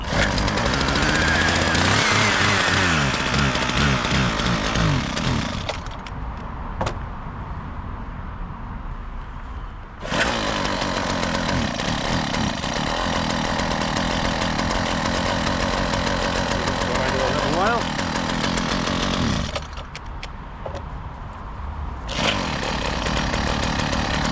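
The petrol engine of a Husqvarna 122HD60 hedge cutter, which cuts out under revs, runs loudly and harshly, revving up and dropping back repeatedly, with brief dips between bursts of high revs.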